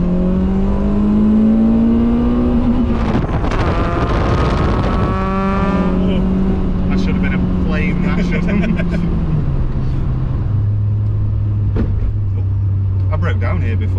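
A Citroen AX VTS hatchback engine revs hard in a sharp rising burst, then drops back to a steady, loud idle that sinks in steps, close by and mostly alone with brief voices.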